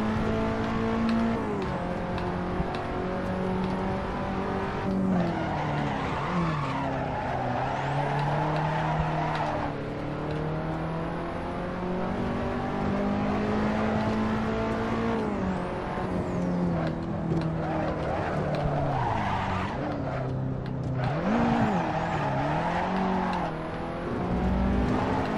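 A race car in Assetto Corsa drives hard with a continuous loud engine drone that rises and falls through gear changes, with repeated tire squeals and skids as it brakes and slides through corners.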